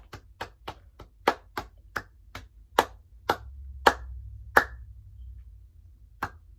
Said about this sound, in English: a major, major clap